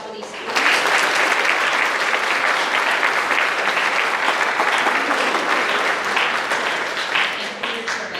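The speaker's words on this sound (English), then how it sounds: "Another round of applause for these students." Audience at a high school senior awards ceremony applauds students, a dense, steady wave of clapping that swells quickly and holds loud for several seconds before easing slightly.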